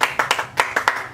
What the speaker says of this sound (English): a wonderful round of applause and cheering